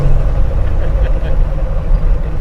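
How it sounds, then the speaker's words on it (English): A 1972 Chevelle pro-touring build with a 600 hp LS3 V8 and a Black Widow Venom exhaust idles with a deep, steady rumble, close and loud, while voices are faintly audible alongside. "Love the sound of this car"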